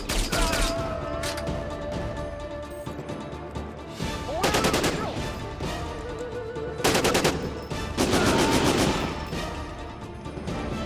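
AK rifle gunfire in Syphon Filter Omega Strain, loud bursts of rapid automatic fire in several clusters over steady game background noise, with occasional speech.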